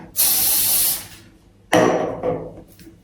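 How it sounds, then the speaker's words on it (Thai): An aerosol hair spray can fires two close, loud hissing bursts onto hair being styled, the first lasting about a second and the second shorter and fading. "เอาสเปรย์ค่ะมาฉีดใส่บีตัวนี้ค่ะ"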